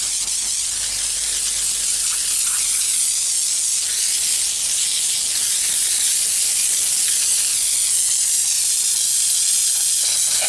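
A steady, loud hiss of pressurized water spraying a foundation repair surface continues without pause, bright and close, with no voices.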